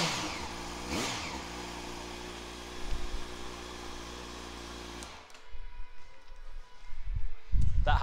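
A 2010 Yamaha FZ8N motorcycle with an Akrapovic exhaust, baffle fitted, cranks and fires up, then settles into a steady close idle before the engine cuts and shuffling noises follow.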